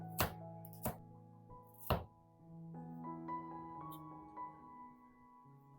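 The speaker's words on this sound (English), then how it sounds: "Slice some ginger and green onions." A knife slices ginger and green onions on a cutting board, three crisp close chops near the start, followed by instrumental music carrying on alone.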